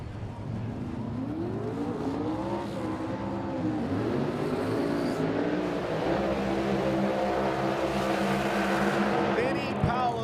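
A 2003 Mustang drag race car with a 528 cubic inch twin-turbo Hemi, its engine rising and falling in pitch as it revs and pulls away, heard at a distance under an announcer's voice.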